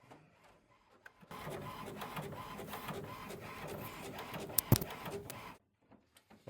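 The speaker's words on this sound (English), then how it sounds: "The print will be sent to the printer and it will get printed." An HP OfficeJet Pro printer printing a page: a steady mechanical whirring and feeding run of about four seconds with a brief louder clack near the end, then quiet.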